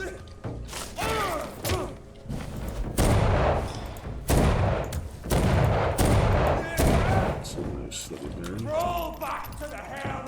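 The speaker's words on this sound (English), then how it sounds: "I just shot 2 in the wall." Pistol shots fired into a wall in a video game, a few heavy thudding bangs mixed with game combat sounds while someone talks throughout.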